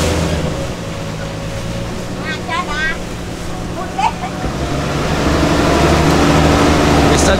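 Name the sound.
lake waves lapping around a boat on Tonle Sap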